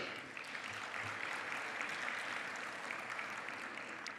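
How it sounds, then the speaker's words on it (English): A large audience applauds at the opening ceremony of an intra-African trade fair, the clapping a steady, even wash heard from some distance and held throughout. "And again, I request you to give them a round of applause."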